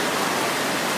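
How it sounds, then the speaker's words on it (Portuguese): A flooded river swollen by heavy rain rushes past as a dense, continuous roar of water, loud and unbroken throughout the brief moment. "tem essa água, tá ouvindo o rio"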